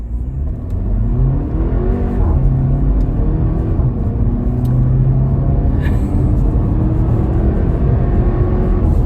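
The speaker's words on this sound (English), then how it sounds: "Wow, yeah, it's fast. The shifts are so quick." A 2018 Porsche Macan in Sport mode accelerates hard from inside the cabin, its engine note climbing through several quick dual-clutch upshifts with a loud, continuous rumbling drone.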